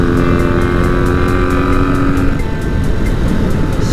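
Vintage Kawasaki motorcycle engine running steadily while riding, carburetors recently adjusted; a loud, continuous near drone with a steady pitch that shifts slightly midway, heard alone with no talking.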